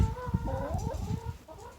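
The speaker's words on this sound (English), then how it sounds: "The chickens think I have something." Backyard chickens cluck close by in a short, busy run of soft, overlapping calls. The sound stays fairly quiet, with no talking over it.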